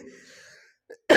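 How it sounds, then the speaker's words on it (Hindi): A single sharp cough bursts out at the end, loud and close, following a stretch of quiet speech and a brief small vocal sound. "बहुत ज्यादा खांसी आ रही"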